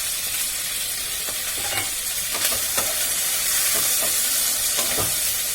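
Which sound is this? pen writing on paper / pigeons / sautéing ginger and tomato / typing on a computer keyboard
sautéing ginger and tomato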